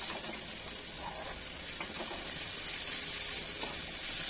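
Masala sizzling and being stirred in a kadai for a katla fish curry: a steady, bright frying hiss with faint scrapes, fairly quiet and with no talk.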